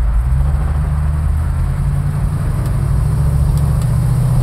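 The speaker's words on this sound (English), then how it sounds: "Once this car goes, I'll give it some brisk throttle." A 1973 Plymouth Barracuda pulls away under brisk throttle, a loud, steady low engine drone filling the cabin, with a few faint clicks over the rumble and no one speaking.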